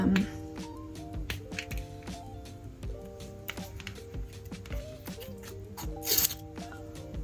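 Protective film peeled off the packaging of a makeup powder compact, a run of soft crackling, ticking rustles close by with a brief louder crinkle near the end.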